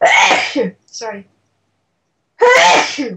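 Two loud sneezes, close up, separated by a short spoken word and a pause of silence.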